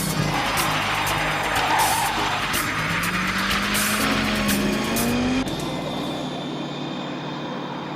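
A car races at high speed with a rising engine whine and a tire squeal, loud and continuous, ending in a sharp cut to a quieter tail.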